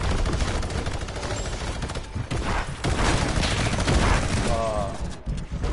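Loud, dense video game gunfire rattles almost continuously in rapid automatic bursts, mixed with other game noise and a voice speaking underneath.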